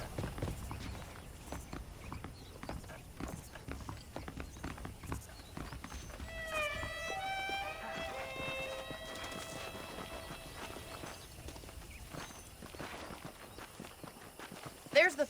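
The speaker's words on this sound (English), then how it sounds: "The horses are saddled up over here." In the game Red Dead Redemption, saddled horses clop along with steady hoof strikes on the ground, heard under ongoing speech, with a brief harmonic whinny-like tone in the middle.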